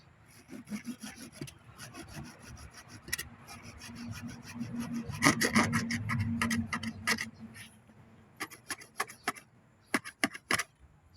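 Hand cutter snipping and sawing through a bougainvillea branch, with repeated woody cutting and rubbing strokes, a denser burst mid-clip, then a run of sharp separate clicks and snaps near the end; close and fairly clear.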